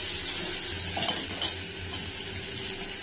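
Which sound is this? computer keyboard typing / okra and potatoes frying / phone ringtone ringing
okra and potatoes frying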